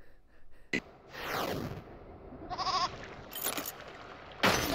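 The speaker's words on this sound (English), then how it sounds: "Now I can free the goat." A goat bleats in a video game amid sweeping synthetic effects and sharp electronic bursts, a wavering nasal cry standing out in the middle of a busy, moderately loud game soundscape with no speech.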